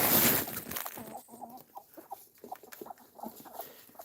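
Chickens cluck while being fed in the morning, a dog nearby: short, scattered clucks and soft calls at close range following a loud rustling burst at the start.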